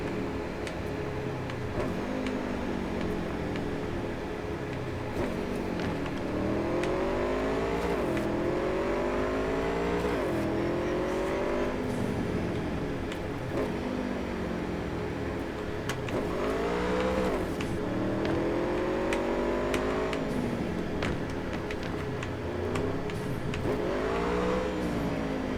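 A motorcycle ridden through Cyberpunk 2077: a steady engine drone with repeated revving swells and rising pitch as it accelerates, close and continuous for the whole stretch.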